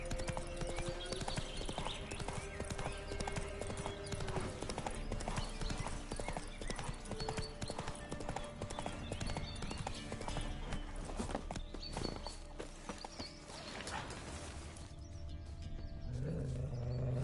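Roach, a horse in The Witcher 3: Wild Hunt, gallops with a steady, rapid clip-clop of hooves. The sound holds loud and close for about seventeen seconds over game music and ambience.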